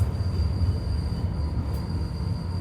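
A train hauled by a rare CC 203 diesel locomotive rolls into Gedangan station during the morning commute, giving a steady, loud low rumble of engine and wheels with a thin high whine held above it.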